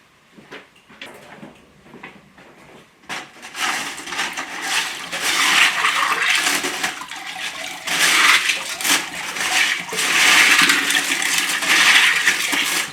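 Water pours from a jug over rocks to rinse them, a steady rushing splash after a few brief clinks and knocks, loud and close.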